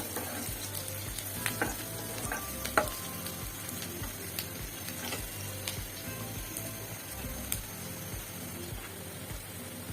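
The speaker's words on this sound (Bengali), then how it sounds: "পেঁয়াজের মধ্যে মশলাগুলো দিয়ে দিব: তেজপাতা, লং, এলাচি," Onions frying in a pan with whole spices (bay leaf, cloves, cardamom, cinnamon) while cooking spiced beef liver, a steady close sizzle with occasional stirring clatters.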